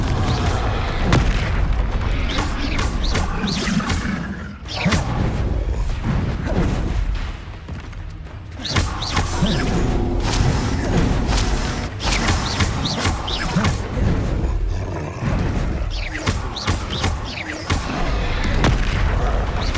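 Bombarda and Confringo spells blasting in the video game Hogwarts Legacy, a rapid series of loud booming explosions and crashes throughout a busy fight, near and forceful, with no clear talk.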